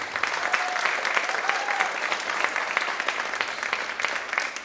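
An audience at a middle school world percussion spring concert gives sustained, even applause, with a faint voice or two rising briefly above the clapping.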